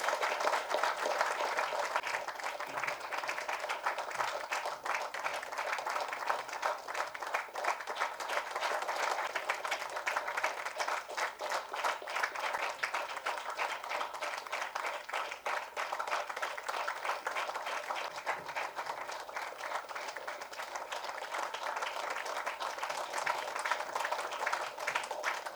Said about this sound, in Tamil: இன்னும் கரகோஷம் வேணும்.